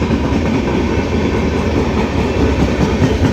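Passenger train 39322 rolling through Charlapalli Railway Station without stopping, a steady loud roar of wagons with faint clickety-clack of wheels, close by and continuous.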